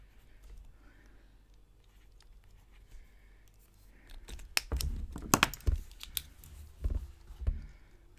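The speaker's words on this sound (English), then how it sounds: "this pen is skipping in exactly the same place on the page" A Uni Jetstream ballpoint pen scratches across the paper of a Clever Fox weekly planner, making soft, uneven strokes that grow louder and more tapping as the pen skips. No one speaks.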